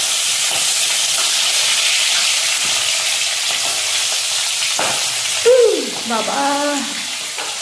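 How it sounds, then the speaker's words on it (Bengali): Folui fish fries in a pan with a steady, bright sizzle and scattered pops and crackles, while a voice and other voices briefly rise near the end. "তো এই যে ভেজে নেব মাছ, ফলি মাছ রান্না করব"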